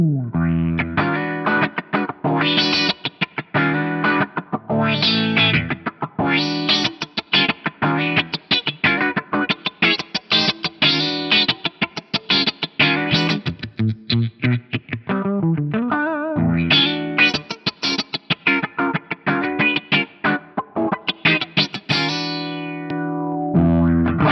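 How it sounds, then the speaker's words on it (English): An electric guitar plays funky, choppy phrases through an envelope filter on a resonant low-pass filter in a Poly Effects Josh Smith Flat V pedal, each note sweeping with a quacky, resonant wah as it's picked. "envelope modulation on a resonant low-pass filter is instant funk"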